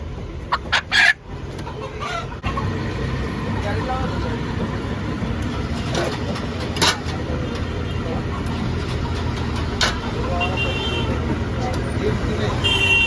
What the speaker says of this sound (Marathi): दीड किलो कोंबडा आपण घेतलेला आहे